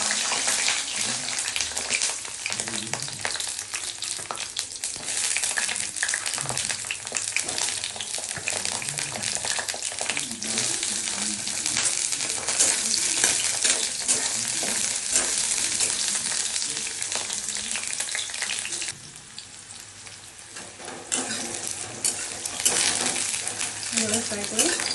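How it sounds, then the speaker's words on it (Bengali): Eggplant slices frying in hot oil, a loud dense crackling sizzle that runs continuously, briefly dropping quieter near the end before swelling back. "তাহলে তেলটা গরম হয়ে গেছে, বেগুনগুলোকে একটু ফ্রাই করে নিচ্ছি।"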